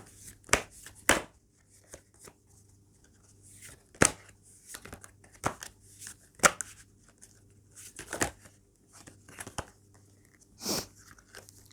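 Tarot cards are handled and shuffled in a quiet room, producing scattered, crisp close-up snaps and riffling clicks at an irregular pace.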